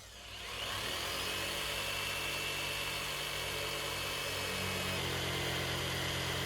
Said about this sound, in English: pulled the jigsaw back out to use it for what it's supposed to be used for, i.e. cutting curves and edges